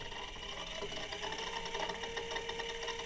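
A rotary welding positioner's motor, driven through a foot pedal, runs with a quiet, steady whirring hum and faint mechanical rattle, continuous and fairly soft throughout.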